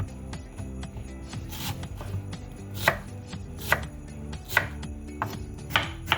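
A knife chops onions on a board, sharp rhythmic cuts about once per second, close and clear, with a softer rubbing scrape between strokes.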